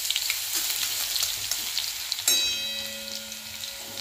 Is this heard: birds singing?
no